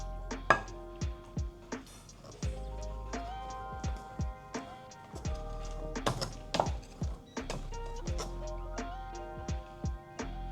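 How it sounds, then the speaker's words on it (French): Milk and browned butter are worked into madeleine batter in a bowl. Close, steady clinks and taps of a utensil against the bowl repeat in an uneven rhythm throughout. "on incorpore le lait et le beurre noisette"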